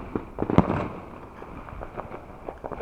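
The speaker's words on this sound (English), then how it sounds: "there's many bangs going on in the background" Fireworks going off in the distance during a 2021 display, a scattered series of muffled bangs and pops at irregular intervals, one sharper burst standing out near the start, all fairly faint and far away.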